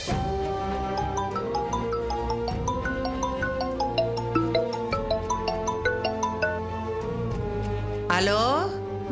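A mobile phone ringtone plays a repeating melodic pattern of bright tones for an incoming call in a Tamil television drama, steady and fairly loud, with a short burst of other sound near the end.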